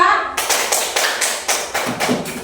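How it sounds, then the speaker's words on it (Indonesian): Classroom applause for a group of fourth-grade students, a series of sharp, regular claps in quick rhythm, close and fairly loud, with a hint of children's voices underneath. "Kasih aplaus untuk kelompok 2."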